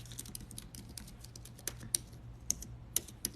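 Typing on a computer keyboard, a quiet, irregular run of soft clicks with a few sharper keystrokes standing out over a low background hum.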